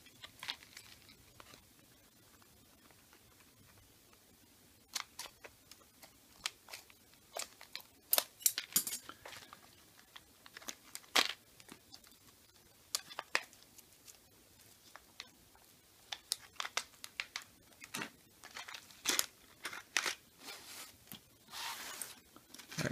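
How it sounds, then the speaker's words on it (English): Scissors snipping open a plastic grab bag of building bricks and minifigures: a long run of sharp, irregular clicks and crinkly cuts, fairly close and alone, with no talking. "Nope, I'm going to use some scissors."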